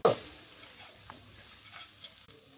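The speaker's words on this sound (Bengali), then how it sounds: "তারপরে পেঁয়াজটা একটু ভালো করে ভুনে নেবেন" Onions frying in a pan are stirred, opening with a sharp scrape and clatter, then a low steady sizzle with a few soft spoon knocks, nearby and fairly quiet, no talking.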